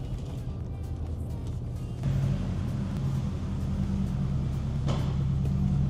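A Subaru WRX engine runs steadily with a low rumble that steps up in level partway through, as though the car is being brought closer. Nobody speaks.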